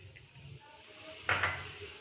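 A metal cooking pot is set down with a brief clink on a kitchen stove to heat oil for green chilli pickle, one short clatter against a quiet background.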